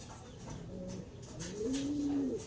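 A pigeon or dove coos in a low, repeated warbling call, close and clear over faint background noise, with the cooing swelling louder toward the end.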